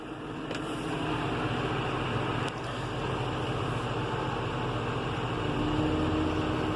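A John Deere 6150M tractor engine runs steadily with a continuous low rumble and broadband drone, heard close and loud from inside the cab while the tractor drives slowly forward.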